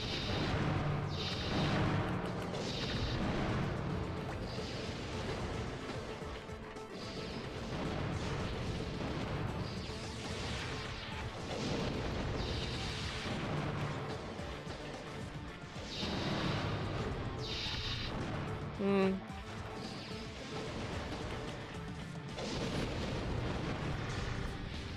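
Bomb explosions in the video game Custom Robo, a steady series of heavy booming blasts and crashes spread over the stretch, loud and near, with no talking.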